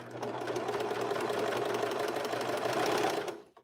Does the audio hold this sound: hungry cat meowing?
no